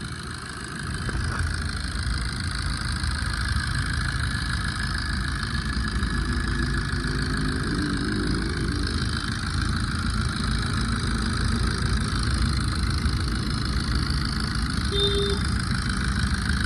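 A Maruti Swift car engine idles steadily with a constant, close hum, and no talking is heard.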